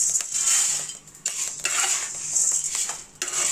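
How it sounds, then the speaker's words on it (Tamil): Wheat grains dry-roasting in a pan, stirred with a metal utensil, giving scraping, rattling strokes in an uneven rhythm over a light crackle, close and fairly loud, with no talking. "இப்போ கோதுமை 250 கிராம் போட்டிருக்கேன். இதையும் வறுத்து எடுத்துக்கலாம்."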